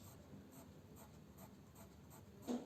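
Chalk or marker strokes on a board during a French anatomy lecture on the brainstem, a series of soft, evenly spaced scratchy strokes about every half second, quiet and alone in a room, with one louder tap near the end.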